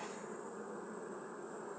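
Honeybees, Carpathian and Carniolan, buzz steadily in a continuous droning hum, close and fairly quiet, with no other sounds.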